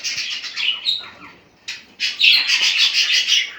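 Budgerigars kept in cages at a home breeding setup chirp and squawk in bright overlapping bursts, with a brief flutter of wings, the chatter dipping for a moment before a denser, louder flock-like chorus resumes.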